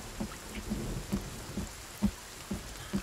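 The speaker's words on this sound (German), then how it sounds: "Man sieht gerade ein bisschen schlecht aufgrund von Regen." Rain falls steadily in the video game Sons of the Forest, a soft continuous patter with low dull thuds recurring about every half second, quiet and even throughout.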